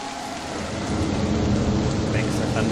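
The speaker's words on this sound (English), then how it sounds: "That was more of a roll of thunder, not a clap." A roll of thunder sound effect from the Syrinscape app, a steady low rumble mixed with rain hiss that swells slightly and holds, with no talking.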